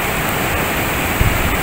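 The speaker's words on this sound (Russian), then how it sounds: "Ух, какие волны." Rough Atlantic ocean waves crash off Tenerife, where the sea is stormy enough that the pool is closed; a steady, loud roar of surf fills the short stretch, with one heavier thump near the end.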